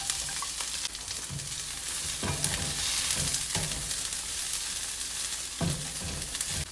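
Onions and tofu stir-frying over a high flame for keto pad thai, a bright continuous sizzle with occasional scraping stirs of the spatula, close and without talk.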